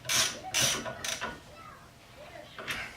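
A wrench clicks and ratchets while tightening brake parts on a 2002 Ford Focus during a rotor replacement, a few sharp close mechanical clicks over a quiet background.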